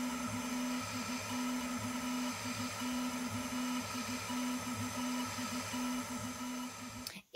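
Laser engraver etching a Christmas decoration into thick wood, a faint, steady machine hum with a regular pulsing on-off pattern as the head moves back and forth, ending in a sharp click.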